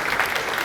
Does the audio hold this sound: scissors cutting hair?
no